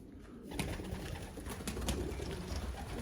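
Young racing pigeons in a London loft coo faintly in low, soft murmurs under a steady background hiss, with a few brief louder flutters.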